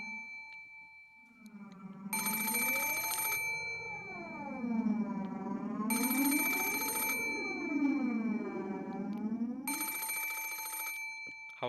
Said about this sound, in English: was a phone on the bedside table across from the one with the doll. And it was ringing noisily